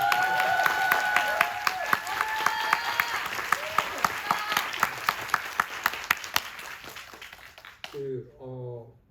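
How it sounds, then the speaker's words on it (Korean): An audience at a Q&A event for the Netflix film Carter breaks into sustained applause, with dense clapping and scattered sharp claps. The applause stops abruptly, and a voice begins speaking at the end. "그럼 박수 한번 보내주세요"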